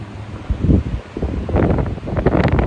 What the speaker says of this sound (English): Now there is a lot of air moving here.